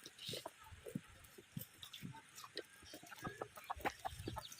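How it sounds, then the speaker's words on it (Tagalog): A chicken clucks in short, scattered bursts near a waterfall in San Rafael, Montalban, Rizal, fairly faint over a steady rush of falling water, with soft voices nearby. "oh, may manok pa dito."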